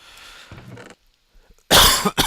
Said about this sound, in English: I'm coughing so much tonight